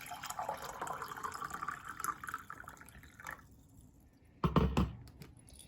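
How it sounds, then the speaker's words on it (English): Warm water poured from a pot into a cup, a trickling, splashing pour that thins out and fades, then a brief louder splash near the end, quiet and close with no talking. "then let it get cooler, and then I pour into my cup"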